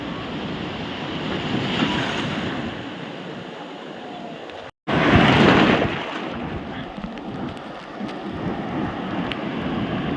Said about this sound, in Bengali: আজকে এমনি একটু বেশি ঢেউ আছে